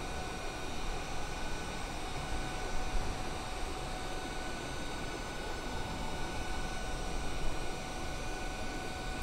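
Steady, unbroken engine and airflow drone of an ANA Boeing 787-10 airliner cruising in Microsoft Flight Simulator, a constant broadband roar with faint high tones and no talking.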